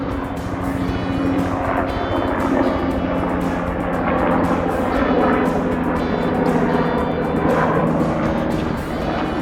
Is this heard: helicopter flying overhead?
yes